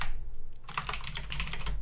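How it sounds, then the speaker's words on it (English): Keys clatter on a computer keyboard as someone types quickly, a run of close, crisp clicks following a brief pause and a single sharp tap, with no talking. "I'm typing and it just decided to refresh while I was typing."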